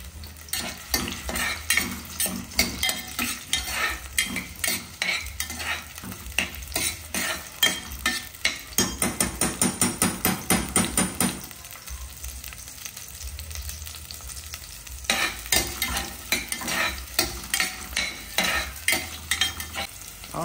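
Onions frying in a pan with vigorous, rhythmic stirring: loud scraping strokes over a steady sizzle, pausing briefly midway before the stirring resumes, close by.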